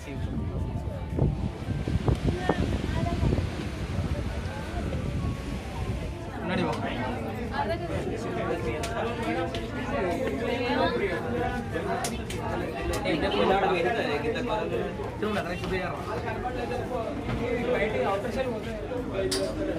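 Steady crowd chatter fills the interior of the INS Kursura submarine museum in Vizag, many voices overlapping at close to mid distance with a constant murmur throughout.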